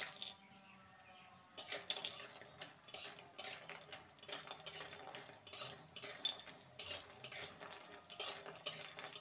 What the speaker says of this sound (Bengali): প্রথমে আমি বড়িটাকে ভেজে নেব।